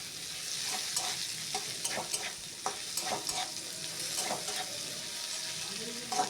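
Chopped tomatoes and diced potatoes stirred and fried in a pan for coconut chickpea dal: an even, close sizzle punctuated by repeated spatula scrapes and taps, no voices.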